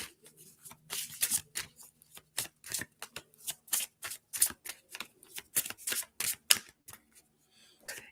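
Oracle cards being shuffled by hand during a casual coffee-chat reading, a quick run of crisp riffling bursts and soft card slaps, close and fairly quiet, with no talk.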